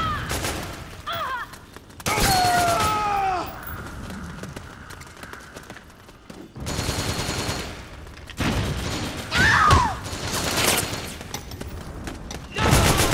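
Gunfire rattles in bursts during a Metal Gear Online match on the Ambush Alley map, with rapid automatic volleys and single shots, some near and loud, others more distant, mixed with game effects and occasional voices.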